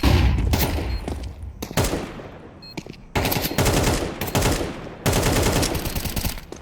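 Automatic rifle fire in Counter-Strike on the Ancient map, several loud rapid bursts close at hand with brief gaps between them and no voices over the shots.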